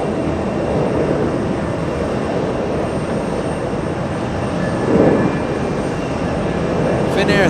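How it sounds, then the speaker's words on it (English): A Finnair Airbus A330-300 jet departs JFK for Stockholm, giving a sustained mid-level engine rumble that swells slightly near the middle, with a voice heard under it. "Finnair 30 heading to Stockholm."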